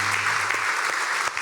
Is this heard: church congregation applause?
yes